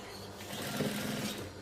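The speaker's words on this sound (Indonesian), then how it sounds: "Lalu kita jahit. Tapi kita jahit bagian bawah dulu." Sewing machine stitching the bottom hem of a curtain, a steady continuous mechanical whir running close and alone throughout.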